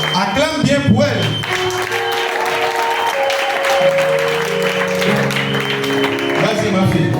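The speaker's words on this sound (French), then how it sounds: "Acclame bien pour elle." An indoor congregation claps and cheers to welcome a girl, the applause steady and close, with a voice talking over it and some musical tones underneath.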